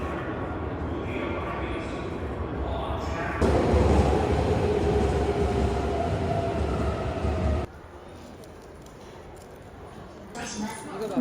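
Narita Express train ride heard from inside a carriage, with a steady rumbling roll that swells louder for a few seconds and then drops to a quieter hum, while people talk over it.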